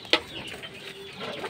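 A hen near her newly hatched chicks gives a single short, close cluck, followed by faint soft calls under low background noise.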